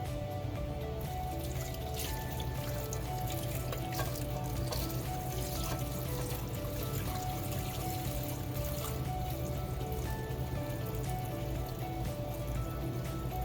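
About half a gallon of brine pours steadily into a big glass bowl, making an even, continuous wash of liquid that stays at one level for the whole pour with no pauses.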